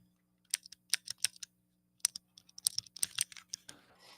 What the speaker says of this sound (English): I've got bitten by the mechanical keyboard bug.